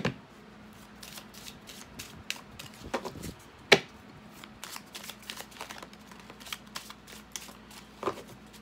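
Cards from a spiritual oracle deck being shuffled and drawn, soft riffling flicks and taps at close range, with one sharper slap partway through, quiet and without talking.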